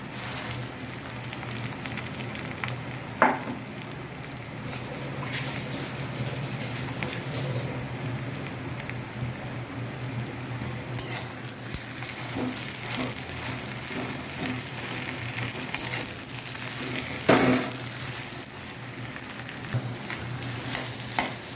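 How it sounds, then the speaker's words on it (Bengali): Mashed potato is fried in oil with sautéed onion, ginger, garlic and chili for aloo chop, giving a steady soft sizzle with occasional stirring scrapes, close and continuous, with no voices. "এটা দেওয়ার পর আমি ভালো করে এই মিশ্রণটাকে তেলে ভেজে নিই"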